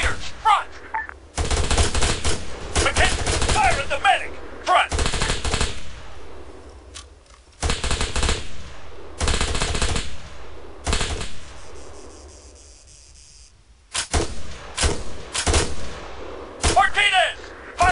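Bursts of machine-gun and rifle fire crackle through an ARMA firefight, loud sustained volleys broken by short pauses, with someone shouting orders between and over the shooting.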